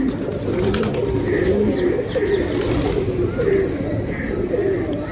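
A pigeon coos in repeated low, throaty rolls close by, with faint chirps from other birds over constant outdoor background noise.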